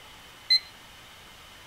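A short electronic timer beep from a live online art auction rings out once near the middle over a faint steady hum, with a second beep just starting at the very end.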